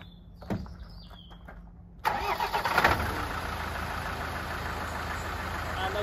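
A Land Rover Defender 90 cranks briefly and fires up, then settles into a steady, loud idle heard up close; a few quiet clicks and faint sounds precede the start.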